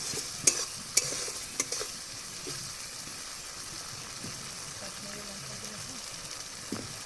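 Sour yogurt being stirred into chicken with a spatula in a pan, a few sharp scrapes near the start and then a low, steady wet stirring and faint sizzle throughout.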